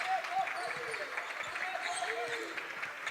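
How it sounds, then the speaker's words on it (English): Crowd at a high school boys' basketball game in Waupun, a steady wash of applause and cheering with faint sneaker squeaks, heard beneath a commentator's voice. "Great crowd, the best crowd we've seen in some years watching this game"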